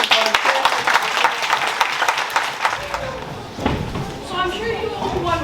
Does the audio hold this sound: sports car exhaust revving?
no